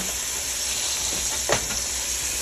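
Tri tip roast beef sears in a hot pan with a steady, loud sizzle and frying hiss, and a short burst of spatter or a stir near the middle.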